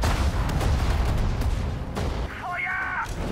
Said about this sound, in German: Faccio fuoco col cannone.